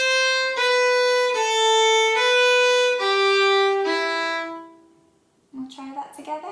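Solo fiddle plays a short phrase from the Manx tune Myr Shenn Ayr starting on C natural, a handful of clear bowed notes stepping downward, close and prominent, followed by a voice speaking at the end.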